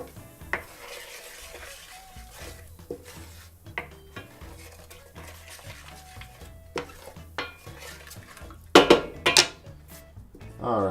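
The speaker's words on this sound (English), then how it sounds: "we have this starting to come up to a simmer" A seafood sauce with beer and seasoning for New Orleans BBQ shrimp heating in a pan gives a soft, low bubbling under scattered clinks and scrapes of a utensil against the pan, with a louder clatter of cookware near the end.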